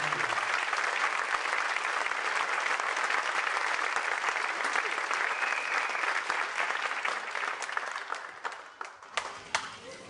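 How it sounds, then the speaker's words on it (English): A crowd at a GED graduation ceremony gives the team members a big round of applause. Dense, sustained clapping fills the room and then tapers into scattered claps near the end. "Let's give them a great big round of applause and thank you."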